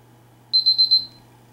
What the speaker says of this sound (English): I'm going to put the alert on.